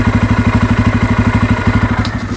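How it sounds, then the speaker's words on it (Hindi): Bajaj Pulsar N250 single-cylinder motorcycle engine idling with a loud, close, steady thumping pulse at an even rhythm, and a brief click near the end. "मैं स्टार्ट करके भी सुनाता हूँ, स्टार्टिंग का भी साउंड जो आ रहा है वो बहुत ही अलग सा आ रहा है"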